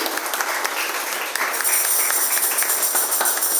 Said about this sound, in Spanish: Dale un fuerte aplauso a la presencia de Dios.